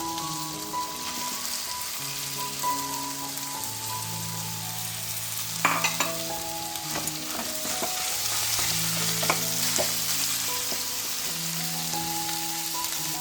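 Boiled fish mince for fish kachuri fries in a pan with salt and spices, sizzling steadily while scraping stir strokes and clicks come and go, all beneath soft background music with no voices.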